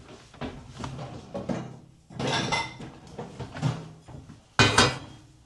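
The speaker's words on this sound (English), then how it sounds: "And I'm just going to grab a bowl" A bowl being taken out in a home kitchen: several clinks and knocks of crockery and a cupboard or drawer, ending in one sharp ceramic clatter, close and fairly loud with no talk.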